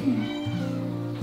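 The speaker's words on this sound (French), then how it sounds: "ce serait plutôt un chat d'appartement" A domestic apartment cat gives one short, close meow that wavers in pitch, heard on its own in a quiet room.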